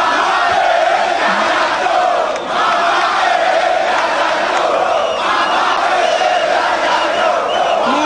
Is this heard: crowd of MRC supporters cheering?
yes